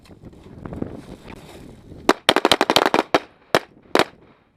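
Rapid handgun fire on a combat shooting course drill: a quiet stretch with faint movement, then a fast volley of about ten sharp, close shots in quick pairs and bursts, followed by two more isolated shots.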